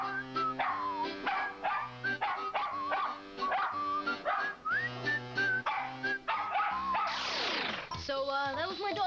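Molly, a miniature collie, barks and yips frantically in a rapid, uneven string of high-pitched barks, with whining and whimpering between them. The whole bout is recorded up close and sounds taped.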